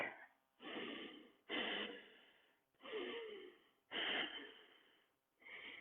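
Heavy, rasping breaths held in a forearm plank during a yoga flow, a close, loud rhythmic series of about six strained exhales and inhales, each swelling and fading with brief pauses between, with no talk.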